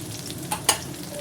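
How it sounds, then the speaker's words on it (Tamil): Onions sautéing with chopped coriander in a pan for a coriander-onion thokku, a soft steady sizzle broken by two sharp spatula scrapes against the metal. "இப்போ வந்து நம்ம வெங்காயம் வதங்கிட்டு இருக்குது கொத்தமல்லியை சேர்த்து வதக்கிக்கலாம்"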